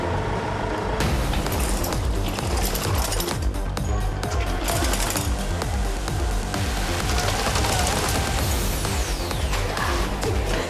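Mountain bikes rattle and clatter down stone steps during an urban adventure race in Edinburgh, a dense continuous racket of knocks and rolling under loud crowd and street noise throughout.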